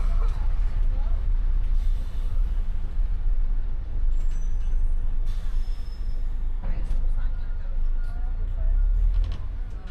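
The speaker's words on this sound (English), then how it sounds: "At the end of the ramp, the bus turns round and it drives us over to the terminal building." A bus drives from a ferry ramp to the terminal building at the Liverpool ferry port, a steady loud engine rumble and road noise with a brief hiss partway through.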